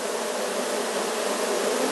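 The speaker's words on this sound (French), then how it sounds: "Mais là j'ai de l'abeille qui bat le rappel." A small swarm of honeybees buzzes steadily and loudly at close range, a dense continuous drone as the bees call the colony together during hiving.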